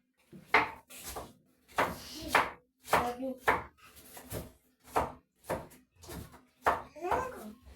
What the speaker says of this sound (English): We must slice a onion.